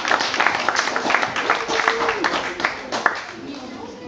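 An audience at an aquabike championship awards ceremony claps steadily for several seconds, with a voice speaking over the applause.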